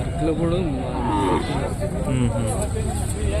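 Cattle low in long, deep moos close by at a cattle fair, over steady background noise, with people talking at times.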